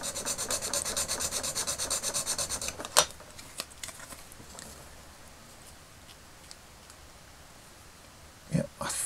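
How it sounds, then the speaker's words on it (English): A file rasps back and forth over a piece of a vintage Kenner M.A.S.K. Rhino plastic toy, quick regular strokes for a few seconds, then a couple of knocks and handling sounds in a quiet room. "I'm just sort of trying to file that piece down so it matches this new piece I've made"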